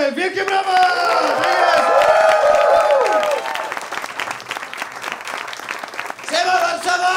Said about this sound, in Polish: Przed wami Paweł Konkiel! Wielkie brawa!